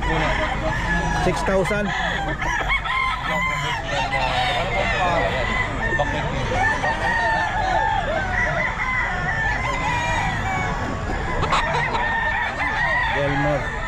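Roosters crow and chickens cluck at Bocaue pet market, many birds close by forming a dense, continuous din with repeated crows standing out. People talk underneath.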